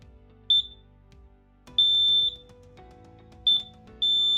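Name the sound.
LINKD smoke alarm beeping while being reset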